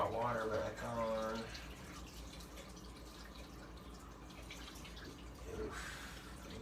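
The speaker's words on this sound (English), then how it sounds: "Turn the hot water back on." Hot water running from a kitchen tap during dishwashing, a faint steady trickle and spatter that continues for several seconds after a brief voice at the start.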